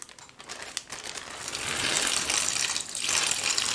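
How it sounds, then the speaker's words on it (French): Water pours onto crushed crackers, biscuits and noodles for a makeshift prison-style pizza, a steady broadband splashing gush that swells and stays loud throughout, with faint crinkling. "vous mettez un peu d'eau"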